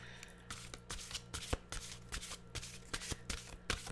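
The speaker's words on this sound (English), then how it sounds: "Let's get our mystical wisdom cards here." A deck of mystical wisdom cards is shuffled in repeated quick riffling bursts, close and fairly quiet, with no talking over it.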